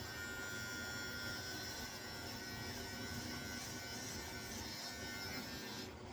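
Electric trimmer cutting down a short, overgrown beard, a steady close buzzing drone that runs continuously with no pauses and no talking.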